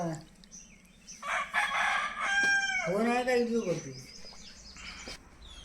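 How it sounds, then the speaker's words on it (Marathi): Chickens cluck and a rooster crows loudly nearby, its call rising and falling over a couple of seconds, with people talking in the background. "भरपूर आहेत कोंबड्या"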